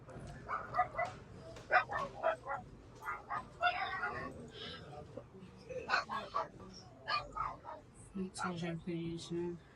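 A dog gives scattered short barks and yips inside an old reputedly haunted house, mixed with people talking quietly nearby.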